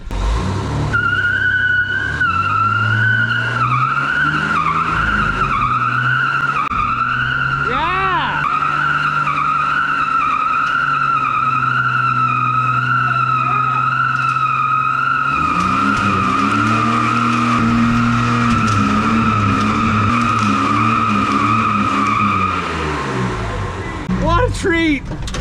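A 1979 Ford F-250 pickup with a 300 straight-six runs loud and close while driving, its engine tone steady then rising and falling with load, with brief squeals and some talking over it.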